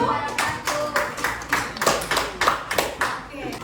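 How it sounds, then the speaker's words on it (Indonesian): A classroom gives applause to a student group: a room of people claps in a brisk, fairly close burst of hand claps, with some voices mixed in. "Kita beri aplaus buat kelompok 1"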